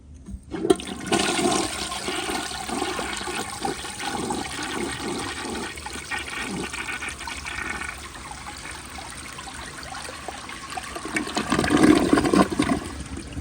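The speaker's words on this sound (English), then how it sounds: "And here is a close-up flush." Blue 1968 Borg Warner Chase toilet flushing up close, a loud rushing gurgle of water that drains and settles into a trickle as the tank refills, ending with a fresh surge of splashing water.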